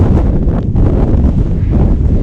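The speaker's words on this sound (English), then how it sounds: "Oh my god, this bit's windy as hell." Strong wind on the mountain ridge of Stac Pollaidh, Scotland, roars and buffets the microphone, a loud continuous low rumble with gusty surges and no voices.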